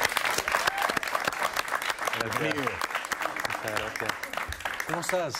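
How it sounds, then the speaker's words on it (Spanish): Television studio audience applauding Enrique Iglesias's entrance, a continuous loud patter of clapping with voices talking over it throughout. "Un aplauso para él, por favor"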